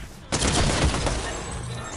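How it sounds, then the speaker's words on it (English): A rapid burst of gunshots in the video game Fortnite, sharp and loud at first, then a rolling fusillade that tapers off over about two seconds. "Gun shooting like that."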